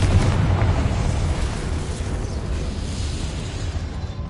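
The Confringo blasting spell explodes in the Hogwarts Legacy video game as a loud, booming burst whose deep rumble slowly fades, with no speech over it.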